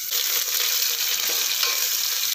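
Onion frying in hot oil in a home kitchen, a steady, close hiss and crackle that holds at an even level throughout with no talking.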